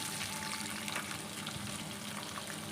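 Chopped onions and tomato sizzling in a hot pan for bisi bele bath, a dense, steady hiss with no break and no talk, fairly quiet and close.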